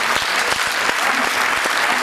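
Audience applause at a Hindi poetry recital: a dense, steady wash of clapping from a large crowd, fairly loud and continuous with no voices on top.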